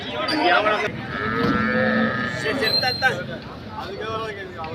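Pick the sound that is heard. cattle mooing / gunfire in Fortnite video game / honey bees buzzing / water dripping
cattle mooing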